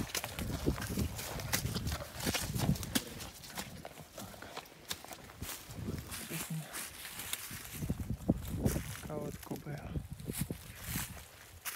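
A draft horse mare's hooves clip-clop on a farm in the Kolomyia area, with irregular knocking steps scattered across the whole stretch while people talk nearby.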